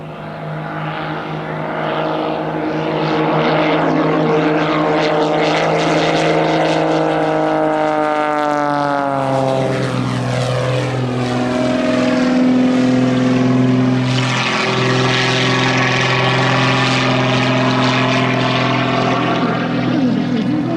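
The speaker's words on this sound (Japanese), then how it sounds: "はい、離陸いたします。" Loud, close propeller airplane taking off at an airport airshow, a sustained droning engine with propeller whine that rises in pitch and shifts as the aircraft accelerates and climbs, with no talk.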